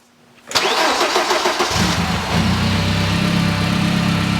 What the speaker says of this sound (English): Dan, why don't you kick the engine on, turn the engine on.